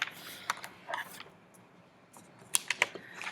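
Scissors cutting around a paper self-portrait cutout, giving a few quiet, scattered snips and crisp ticks, with a small cluster of sharper clicks near the end, close by and with no talk.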